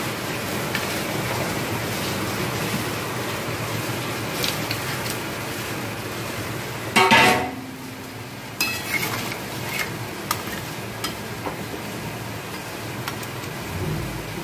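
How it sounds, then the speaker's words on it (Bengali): Fish pieces go into a pot of potato curry for a Bengali fish jhol. A brief clattering splash stands out midway over a steady cooking hiss, followed by a few light clinks, with no talking. "এবার আমি এর মধ্যে মাছগুলোকে দিয়ে দেবো।"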